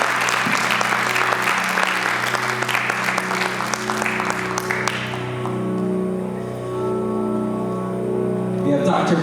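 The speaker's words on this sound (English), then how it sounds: "Everyone give a round of applause for Dr." Audience applause for a speaker at a panel event, loud continuous clapping over sustained background music that stops abruptly around five seconds, leaving the music playing alone.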